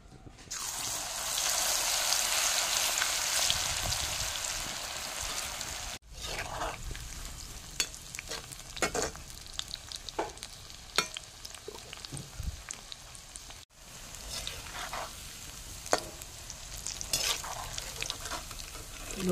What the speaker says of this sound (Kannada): ಇನ್ನು ಇದನ್ನು ಫ್ರೈ ಮಾಡ್ತೇನೆ.